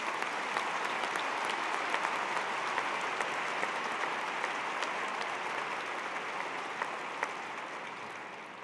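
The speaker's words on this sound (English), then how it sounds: "with a round of applause." Steady, sustained audience applause fills a spring 2022 graduate school commencement ceremony, a dense wash of clapping that holds at an even level from start to finish with no talking over it.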